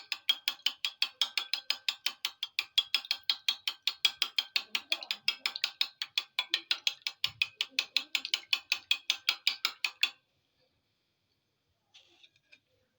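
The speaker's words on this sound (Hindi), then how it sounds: "इसको अच्छे तरीके से मिक्स कर लेते हैं।" Eggs, three or four of them, are beaten in a bowl for egg bread batter. A fast, steady run of sharp clicking strokes lasts about ten seconds and then stops, with a couple of faint taps afterward and no talking.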